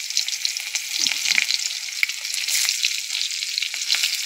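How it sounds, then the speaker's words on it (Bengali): Chopped onion sizzles steadily in hot oil flavoured with black cumin seeds, with scattered scraping clicks as it is stirred in the pan; close and fairly loud, no voices. "পেঁয়াজ কুচি দিয়ে একটু নাড়াচাড়া করছি।"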